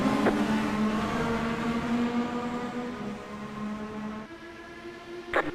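IndyCar race cars on the Motegi oval in the iRacing game, a sustained high engine whine holding steady pitch and then shifting as another car passes, loud and close, alone without talk.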